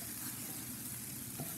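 Kale cooks in a hot pan with a soft, continuous sizzle, quiet and close, with no voices over it.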